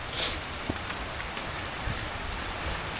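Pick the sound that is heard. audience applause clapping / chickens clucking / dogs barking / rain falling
rain falling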